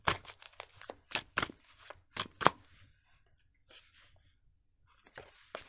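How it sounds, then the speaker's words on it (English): A tarot deck is shuffled by hand up close, with rapid crisp riffling bursts in uneven clusters, a short pause, then another round of shuffling. "I'm being led to continuously shuffle and see what else we have."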